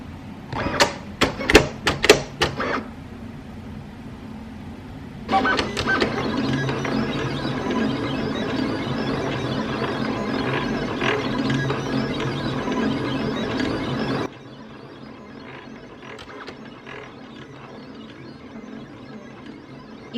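Silhouette Cameo 5 cutting machine at work, a few quick clicks followed by a steady quiet mechanical whir and hum for several seconds, then softer motor noise as it settles.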